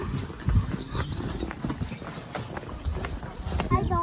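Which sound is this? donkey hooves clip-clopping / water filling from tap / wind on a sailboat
donkey hooves clip-clopping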